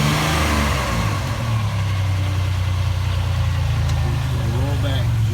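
A car engine runs at a steady idle with a low rumble while people talk over it throughout.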